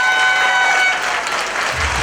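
An audience claps in a loud, dense wash of applause at a motivational speech event, with a faint steady tone fading out early on.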